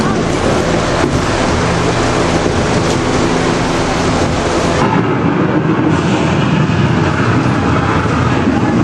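A simulated thunderstorm inside Epcot's The Land boat ride roars as dense, continuous rumbling wind and rain that stays loud throughout, with a slight shift in texture partway through.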